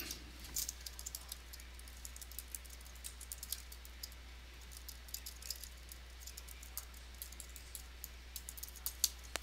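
Fingers type on a computer keyboard in Microsoft Word, a rapid, uneven stream of light key clicks heard close and fairly faint over a low steady hum, with no voice present.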